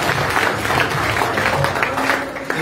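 An audience at a business seminar applauds loudly and steadily throughout, a dense roomful of clapping that continues without a break.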